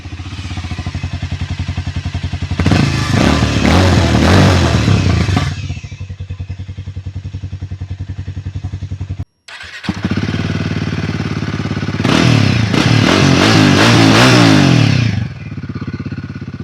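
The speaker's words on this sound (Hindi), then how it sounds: "चलिए दोनों का एग्जॉस्ट सुनते हैं।" Two single-cylinder motorcycles, a Royal Enfield Himalayan 450 and a Harley-Davidson X440T, idling with a thumping exhaust beat, each revved hard twice in loud close bursts before settling back to idle, with a short break between bikes.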